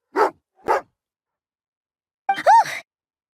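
An angry dog in the Genshin Impact video game gives two short, sharp huffs, then a pause, then a rising whining growl-bark, close and distinct, with no talk.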